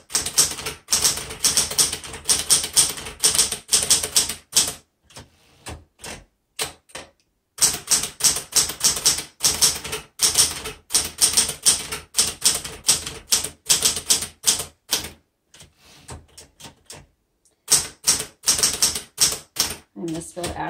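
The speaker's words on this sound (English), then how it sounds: "So this typewriter types very well." A 1970s Smith Corona Galaxie Twelve typewriter typed on up close: fast, crisp clacking keystrokes in rapid bursts, broken by short pauses and a few scattered single taps, with no talking.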